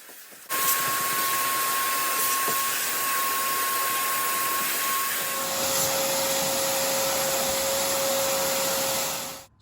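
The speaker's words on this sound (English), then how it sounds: "Let's go ahead and bring the vacuum and clean that out" A vacuum cleaner roars steadily and loud for about nine seconds while cleaning out the fuel pump area of a BMW F10 535i, its whine shifting pitch partway through as the nozzle moves.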